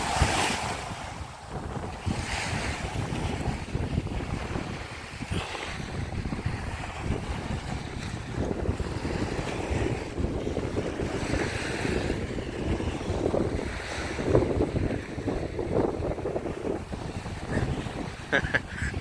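Baltic Sea waves wash and roll steadily onto an empty beach at Hel, Poland, under strong gusting wind buffeting the microphone.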